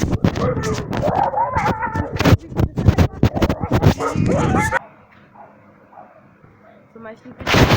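A dog barks from indoors during a heavy snowstorm, short yaps and barks that come through under and after a person's talking, then quieter stretches.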